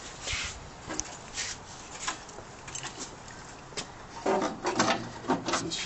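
Parts of a Craftsman 12-inch tilt-head bandsaw are snapped back into place by hand: a series of close plastic and metal clicks, knocks and rattles, ending in a busier burst of handling noise.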